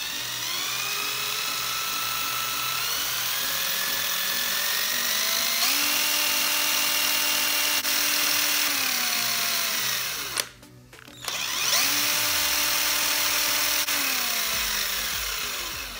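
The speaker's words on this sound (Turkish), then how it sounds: "Şu şekilde jeneratörümüzün ortalama 1000 devir testi yapıyorum" Homemade generator built from a flange alternator paired with a brushless motor, run up to about 1000 rpm: a steady, loud electric whine whose pitch steps up and down through the run, briefly cutting out near the middle before spinning back up.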